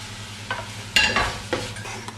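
Puy lentils and capsicum stirred in a pan over a faint sizzle, with several close scraping strokes at irregular intervals against a low background hum. Nobody speaks.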